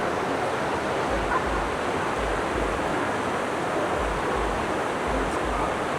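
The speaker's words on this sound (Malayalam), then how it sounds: "ആ വാട്ടർഫോൾസ് വെള്ളം പോകുന്നതിൻ്റെ സൈഡിലായിട്ട്" A waterfall beside cliffside cafeterias in Gangtok rushes as a steady, loud, broadband roar that fills the whole scene without letup.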